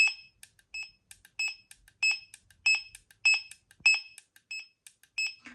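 Fox Mini Micron X fishing bite alarm receiver sounding a regular series of short, bright electronic beeps, heard close and alone, with the tone shifting as its volume setting is changed.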